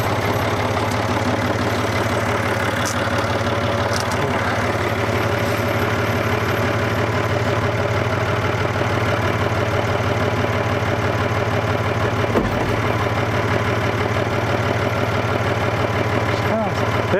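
A truck engine idles steadily with a low droning rumble while turning around to tow a 1968 SAAB 96 out of a tree, loud and constant throughout, with faint clanks over it.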